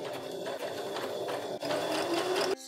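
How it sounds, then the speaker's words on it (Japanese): A sewing machine stitches curtain fabric with a steady, close mechanical whir and rapid needle chatter, speeding up briefly before stopping abruptly. "で、ここをまず縫います。"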